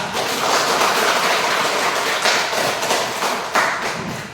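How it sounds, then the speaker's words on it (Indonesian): A group applauds at the close of a classroom session, steady clapping from many hands filling the room for several seconds, dense and fairly loud with a few sharper bursts. "maka silakan kita beri aplaus buat kita semua"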